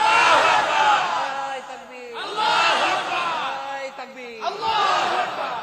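Large crowd at an Islamic religious gathering shouting the takbir slogan in unison, three loud massed chants separated by short pauses, with a leader's voice cueing between them.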